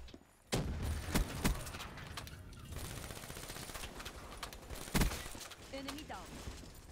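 Rapid gunfire from a team deathmatch shooter game, with repeated sharp shots and bursts over busy in-game noise and a louder burst near the end, while a voice talks throughout.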